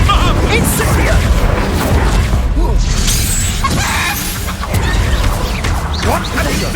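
Fiery spell blast in the Hogwarts Legacy video game, loud crashing bursts and crackling impacts in busy combat, with a voice speaking over the chaos.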